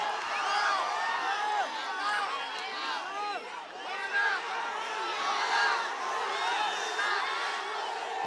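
A dense crowd at a JanaSena Party public meeting in Ongole shouting and cheering, many overlapping voices roaring continuously and swelling in waves at close range.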